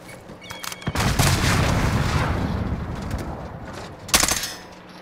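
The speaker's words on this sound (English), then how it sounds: "Grenade out!" A grenade blast and gunfire in Call of Duty: Modern Warfare: a long, loud roaring explosion swells and lingers, and a burst of rapid shots cracks near the end.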